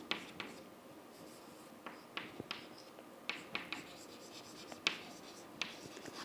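Chalk or marker strokes on a board during a maths lecture tap and scratch in short, irregular bursts, close and fairly quiet, with a soft room hum underneath and no clear speech.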